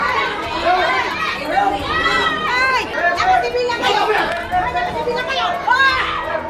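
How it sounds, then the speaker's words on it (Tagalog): Two groups of security guards at a protest over unpaid wages in Manila shout at each other, a dense, continuous babble of overlapping raised voices with no single speaker standing out. "Maririnig sa video ang sigawan ng dalawang grupo."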